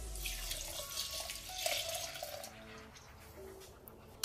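Boiled milk is poured into a mixer jar holding a little water while making potato payasam, giving a steady close splashing, trickling flow with no voices.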